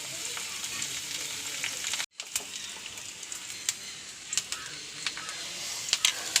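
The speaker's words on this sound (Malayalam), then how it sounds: "വേപ്പിൻ്റെ ഇല ഇടുന്നു" Curry leaves go into hot oil with fried onion in a pan for fish curry and set off a steady sizzle with small crackling pops, faint and continuous after a brief break.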